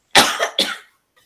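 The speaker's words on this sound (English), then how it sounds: "I've got a cough." Two quick, close coughs in succession, loud and dry, followed by silence.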